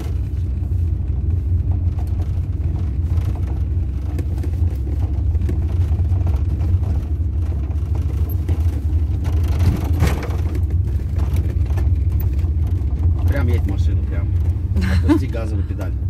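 Car engine of a learner driver's car revs as the gas pedal is pressed, a steady loud rumble throughout with a slight rise near the end, while an instructor talks over it.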